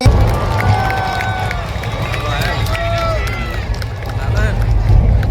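A large audience at a Gujarati festival stage event claps and cheers steadily to welcome a film team, a dense continuous wash of applause with crowd hubbub and a host's voice over it.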